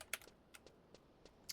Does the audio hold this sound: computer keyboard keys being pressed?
yes